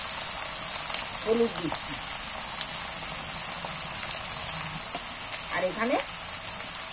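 Spices sizzle in a hot pan on a home stove as a little water is poured in, giving a steady broadband hiss like rain, with someone talking over it.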